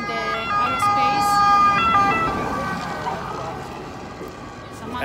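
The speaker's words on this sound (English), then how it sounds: "Ambulance is always ruining my videos" An ambulance siren wails along a street in Rome, its rising and falling tones clear over traffic noise and then fading as it moves away, while people talk nearby.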